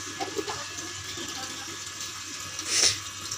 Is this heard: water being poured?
yes